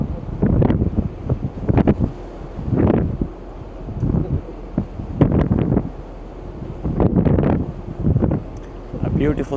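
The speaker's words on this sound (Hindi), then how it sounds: "थोड़ा सा विंडी है इस वक्त, बहुत ज़्यादा नहीं है लेकिन थोड़ा सा विंडी है।" Wind buffets a microphone aboard a ferry, arriving in repeated rumbling gusts a second or two long with quieter gaps between them.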